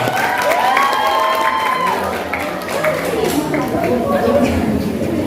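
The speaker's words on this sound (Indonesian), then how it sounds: "Beri tepuk tangan yang meriah." An audience at a final round of an Acehnese-language storytelling competition applauds and cheers steadily throughout, a loud, continuous crowd sound with voices mixed in.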